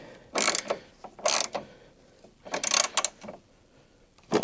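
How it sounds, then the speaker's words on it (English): Socket ratchet clicking in several short bursts while front grille bolts are tightened on a 2020 Ford F-150, close and fairly loud with quiet gaps between strokes. "So now what I'm going to do is go back in here and just tighten these bolts."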